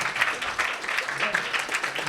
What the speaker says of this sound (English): so everybody clap